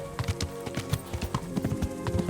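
A horse in the video game Kingdom Come: Deliverance plods along at an unhurried walk, its hooves clip-clopping in a steady, even rhythm, moderately close, with no voices.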